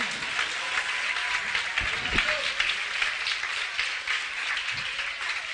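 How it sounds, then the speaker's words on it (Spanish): An evangelical church congregation applauds the Lord during a sermon, with dense, steady clapping that fills the room at an even loudness throughout. "Dale un aplauso al Señor"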